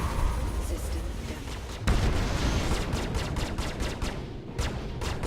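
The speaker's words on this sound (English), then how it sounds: "So use some missiles here." Missiles launch from a Cutlass ship during a space dogfight in the Star Citizen game, a dense roar of rapid firing and blasts with one sharp boom partway through, under faint talk.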